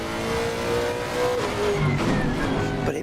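A race car in Assetto Corsa Competizione with its engine droning and shifting pitch, steady and fairly loud, with rising and falling engine tones as it drives on track.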